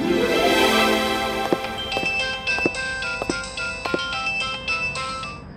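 A phone ringtone plays a bright, repeating electronic melody, moderately loud with no talking over it.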